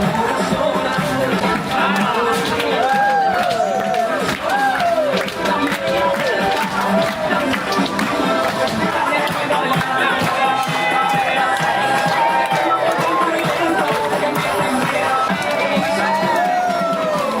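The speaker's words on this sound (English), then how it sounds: "But we need you to make as much noise as possible. Stamp your feet, clap your hands," A dinner-show audience in Picton, New Zealand stamps feet, claps hands and cheers at full volume, a dense steady roar of crowd noise with shouts and whoops running throughout.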